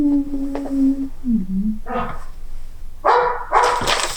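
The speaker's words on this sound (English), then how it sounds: "Sorry about the dogs." Several dogs barking and yipping indoors during a home interview, scattered sharp barks and a whiny tonal yelp, moderately loud, with short bursts clustered near the end.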